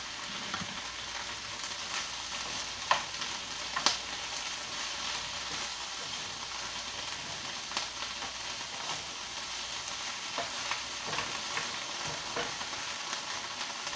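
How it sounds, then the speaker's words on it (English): Fresh-cut collard greens sauté in a hot pan, giving a steady, close sizzle and crackle throughout, with a couple of sharper pops and spatula scrapes early on and no talking. "You keep adding your greens when you are sauteing the greens"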